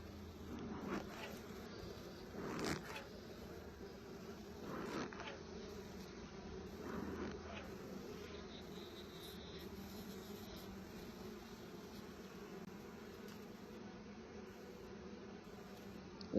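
Honey bees hum steadily around an open hive, a soft continuous drone with no one speaking.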